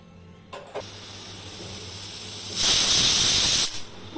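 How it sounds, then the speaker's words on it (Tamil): A pressure cooker lets out a loud, steady hiss of escaping steam lasting about a second, preceded by a couple of short faint puffs. "ஒரு விசில் வந்துருச்சுங்க."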